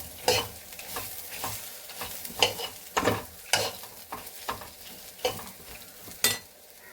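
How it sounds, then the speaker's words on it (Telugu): Sliced ridge gourd frying in a pan, stirred with a spatula that scrapes and knocks against the metal in repeated uneven strokes over a soft background sizzle, close and fairly loud. "మంచిగా మనం దీన్ని ఫ్రై చేసుకోవాలి"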